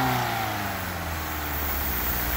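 A Chevy Cobalt engine, abused in a neutral-drop test, runs with a steady, loud mechanical drone, holding a high rev without pause, no voices.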